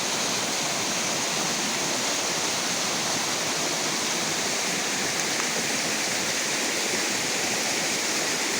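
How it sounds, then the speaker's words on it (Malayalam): Water pours over the side of a check dam at Modavara Dam, a steady, loud, continuous rushing roar with no voices and no breaks throughout. "ഇതാണ് ചെക്ക് ഡാമിൻ്റെ ഒരു സൈഡിലേക്ക് വെള്ളം പതിക്കണതാണ് കാണുന്നത്"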